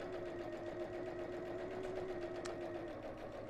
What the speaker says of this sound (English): when you're sewing through thicker fabrics like this, you can find that it slows the machine down a little bit